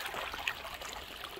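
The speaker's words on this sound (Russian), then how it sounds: "Смотрите, какой тут ручеек." A small, clear mountain stream trickles and babbles softly and steadily at close range, with no voices over it.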